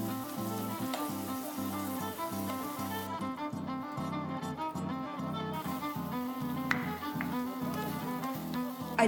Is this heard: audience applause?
no